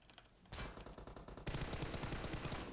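Gunfire from the PUBG Mobile battle royale game: after a short quiet moment, rapid automatic bursts begin and grow into heavy, sustained fire.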